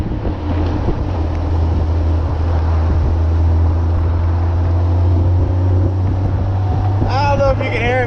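Honda Goldwing GL1500 motorcycle cruising on a highway, a steady, loud rush of wind buffeting the helmet microphone over a low engine drone, with a brief voice near the end.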